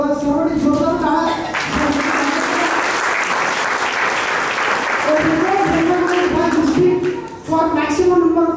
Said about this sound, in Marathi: सर्वांनी जोरदार टाळ्या.